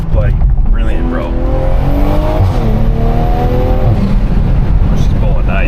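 A tuned BMW G87 M2 with a six-speed manual, JB4 tune, E30 blend and catless downpipe accelerates hard from inside the cabin, engine tone climbing through rising sweeps across shifts, loud and close, with people talking over it.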